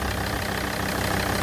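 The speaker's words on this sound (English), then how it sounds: "Now the engine is in limp mode." A Volvo XC90 D5 AWD diesel engine with a stuck swirl flap actuator idles in limp mode, a steady, close, low rumbling clatter that holds unchanged and runs alone without talk.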